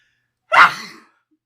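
A single sharp sneeze bursts out alone, loud and close, lasting about half a second with a breathy tail, surrounded by silence.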